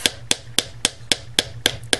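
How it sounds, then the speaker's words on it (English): A hammer flattens soft wire on a metal bench block while a hammered bangle bracelet is made, striking eight sharp, bright taps at a steady, quick rhythm, close and loud. "we're just going to go ahead and use our hammer and hammer all along the length"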